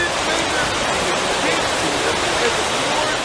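Water rushes steadily at the edge of the Crow Wing River, a dense, even wash of flowing sound that stays close and constant throughout.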